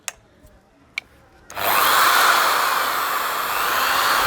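A few light clicks and taps come first, then a power drill with a drill bit starts up suddenly and runs loud and steady with a grinding whir, as if boring into paper.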